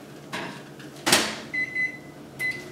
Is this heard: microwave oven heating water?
yes